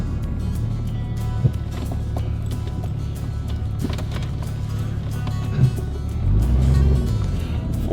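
A Jeep Grand Cherokee ZJ engine runs steadily in four-wheel drive, a loud, continuous low rumble with a brief swell in revs near the end.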